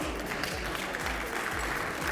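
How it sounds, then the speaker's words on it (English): Steady clapping from a crowd at an awards presentation, dense and continuous at a fairly even level throughout, with no voices rising above it. "Give her a round of applause, please."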